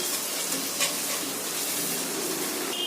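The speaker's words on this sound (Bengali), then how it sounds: "আদা বাটাটা একটু ভালো করে পেঁয়াজের সঙ্গে কষে নেব।" Ginger paste frying with onions and green chillies in a pan, a steady close sizzle that hardly changes for a few seconds.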